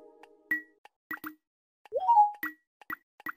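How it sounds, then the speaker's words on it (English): Short, soft button taps from a calculator app, each tone slightly different in pitch and character as random variations play, spaced irregularly in a quiet setting with no talk. "here's an example of button taps on their calculator, and I'll play this for you"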